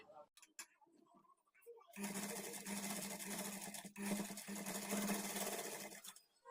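A sewing machine stitches the neatly folded cloth edge of a blouse neck hemming strip, running close and steady for several seconds after a short stretch of talk.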